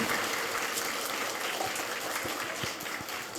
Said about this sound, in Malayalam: നല്ലൊരു കൈയടി കൊടുക്കണം